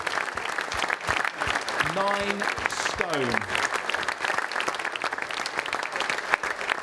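Sustained audience applause at a Man v Fat football event, dense clapping from a crowd continuing throughout while a host speaks over it and a brief whistle-like tone rises and falls.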